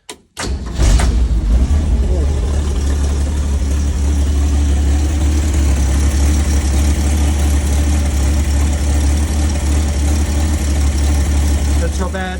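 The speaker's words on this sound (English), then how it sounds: "Just added fuel, turn the key. There we are. Idling well." A 1972 Land Rover Series IIa engine cranks briefly and catches, then settles into a steady, loud, close idle with a low, even rumble.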